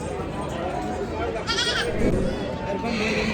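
Goats and young kids bleat at a big Maharashtra livestock market selling goats, sheep and poultry, a short bleat rising over steady crowd noise and nearby talk.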